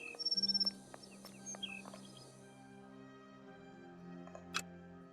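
Bird calls in the video game Sherlock Holmes: Nemesis: a quick run of chirps opens, followed by scattered faint tweets over a quiet ambient drone, with one sharper chirp near the end.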